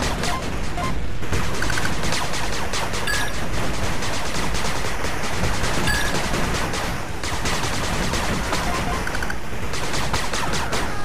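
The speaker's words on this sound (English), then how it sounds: "Machine gun turret." Machine gun turret in the PC strategy game 8-Bit Armies firing nonstop, a loud dense rattle of rapid shots with occasional crashes layered through the whole stretch.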